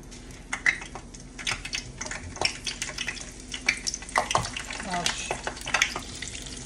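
Eggplant fries in canola oil with a busy, crackling sizzle close up, punctuated by many sharp clicks and taps of utensils against the pan in an irregular rhythm.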